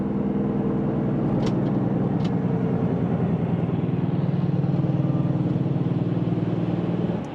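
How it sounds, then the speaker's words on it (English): A truck rolls past on a snowy road in poor visibility during lake-effect snow, its steady engine drone loud and close throughout with no talk. "I'm going to let this truck go by."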